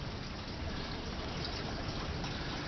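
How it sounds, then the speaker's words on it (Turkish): Steady water flow from a drip irrigation system watering seedlings planted in perlite in a soilless hydroponic setup, a continuous close hiss and trickle with no pauses. "Perlit içerisine ektiğimiz fidanları yine damlama sistem aracılığıyla"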